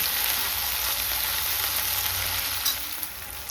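Coriander roasting in a dry pan for a chicken biryani spice paste, a steady soft sizzle and hiss running unbroken throughout, fading slightly near the end with a faint clink.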